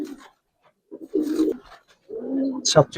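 Giribaz colouring pigeons coo in short low bursts between pauses, close by, with someone talking over parts of it.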